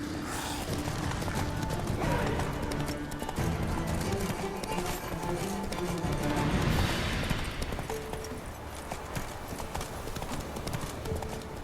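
Roach the horse gallops in The Witcher 3 with steady, rapid clip-clop hoofbeats, close and continuous, over game ambience and a brief neigh.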